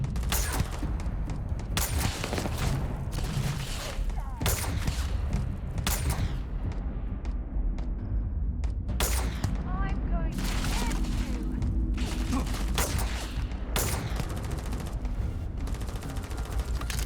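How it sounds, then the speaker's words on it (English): Submachine gun fire in the Starfield video game, with repeated bursts of shots spread through the clip among other game noise and talk. "This guy is like shooting at me with a submachine gun and nearly taking me out."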